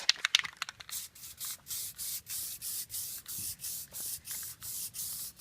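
A final coat of dip is spray-painted onto a Mustang GT, with a close, soft hiss cut into a steady series of short, regular passes after a few quick sputters at the start.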